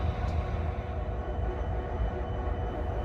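A freight oil train hauled by Canadian National Dash 9 diesel locomotives rolls past, giving a continuous heavy low rumble of engines and rolling cars, steady and fairly loud throughout, with no voices.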